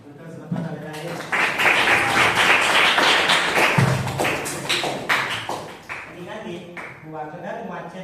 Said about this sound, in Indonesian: Tepuk tangan untuk selamat hari raya.